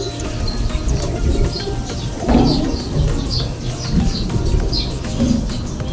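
Pigeons coo repeatedly at close range, low burbling calls overlapping with occasional chirps and brief wing flutters, with no talking.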